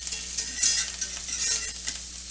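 Garlic sizzling and frying in a pan with browned bits from chicken thighs, steady hiss with light stirring scrapes, close and moderately loud, no talk.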